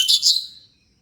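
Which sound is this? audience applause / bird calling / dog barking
bird calling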